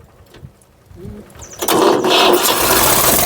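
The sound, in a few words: tractor engine starting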